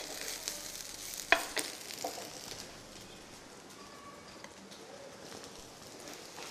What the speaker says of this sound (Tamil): நல்லா ஃபைனாக சாப் பண்ண டொமேட்டோஸ் ஆட் பண்ணிவிட்டு நல்லா அதை சாத்தே பண்ணணுங்க